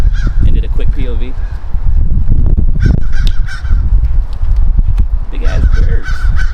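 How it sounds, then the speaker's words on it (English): Several large birds caw and honk loudly and repeatedly, close by, with harsh overlapping calls amid background noise. "Big ass birds."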